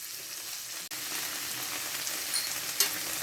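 Chicken pieces fry in a pan as spring roll filling, giving a steady, even sizzle throughout with a brief dropout near the start and a small clink toward the end.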